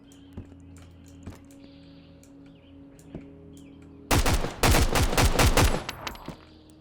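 A burst of loud, close automatic gunfire erupts in the survival shooter Road to Vostok after a quiet stretch of sparse ambient sounds, with rapid shots for roughly two seconds followed by a few scattered faint cracks.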